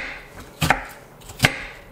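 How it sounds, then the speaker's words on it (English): A knife chops onion on a cutting board for guacamole, two sharp, distinct knocks about a second apart, close and clear with no talking. "chop this up"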